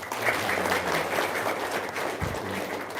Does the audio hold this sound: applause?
yes